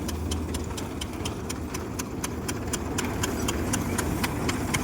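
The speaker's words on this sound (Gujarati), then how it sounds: "ટ્રેક્ટર હવે પાછું ભર ભરવા જાય છે" A tractor engine idles with a steady low rumble and a regular ticking pulse, running continuously at moderate volume up close.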